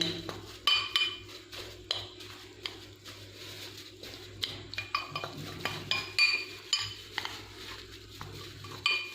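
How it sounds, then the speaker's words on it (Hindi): A spoon clinks and scrapes against a bowl as eggplant chip ingredients are stirred together, a repeated close rhythm of knocks and rattles over a low background hum. "इन्हें अच्छी तरह हमने मिक्स कर लेना है"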